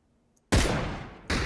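A loud gunshot blast in PUBG cracks out after a moment of near silence, its echo trailing off before a second shot bursts in at the end.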